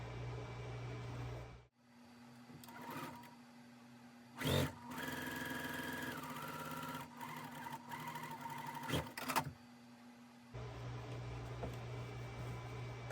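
A sewing machine stitches a seam on a pressed flowers quilt block, its steady motorized whir running continuously for several seconds with a few brief pauses and louder bursts as fabric is guided, with no talk.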